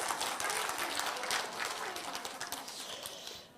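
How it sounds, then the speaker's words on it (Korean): A church congregation gathered for a Bible study revival meeting claps together, a dense patter of applause that rolls on and then tapers off near the end. "박수 치시죠"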